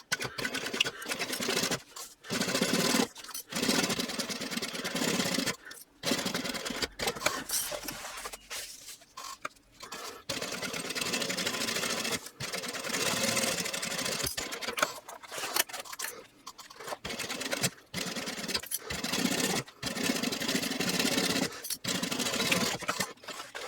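A sewing machine bastes and top stitches a backpack pocket closed at a 1/8 inch seam, running in steady close bursts of rapid stitching broken by brief pauses, with no talking.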